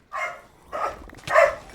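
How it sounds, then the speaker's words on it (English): Dogs bark three times in quick succession, fairly close and clear, with short gaps between the barks. "Why are the dogs barking?"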